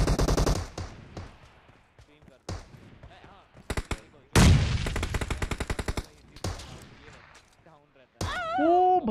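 Gunshots ring out in PUBG Mobile, sharp single cracks followed by a rapid burst of automatic fire, with gaps between volleys and a voice talking at the end.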